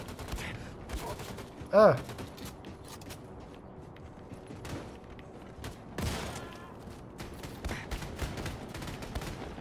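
Gunfire in the first-person shooter Wolfenstein 2, shots scattered through the clip with a louder burst near the start, over dense game noise and a brief vocal exclamation.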